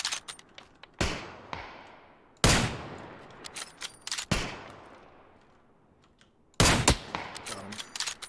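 Gunfire in a PUBG duo match on the snowy Vikendi map: four sharp, loud shots or short bursts spaced a second or two apart, each trailing off in a long fading echo, with no talk.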